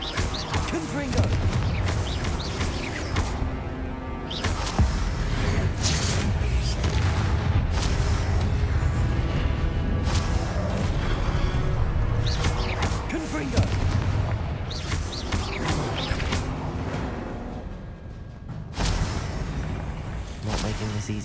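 Repeated fiery blasts from the Confringo spell in Hogwarts Legacy on Xbox Series X, heavy booms and crackling bursts in quick succession over a loud game soundtrack, with brief voiced lines between.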